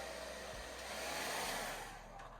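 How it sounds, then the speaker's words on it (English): A powerful hair dryer runs steadily in a cruise ship's interior cabin, giving a constant airy whoosh with a faint low hum. It sounds close and fairly quiet throughout, with no talking. "That's honestly the best hair dryer I've ever seen on a cruise ship."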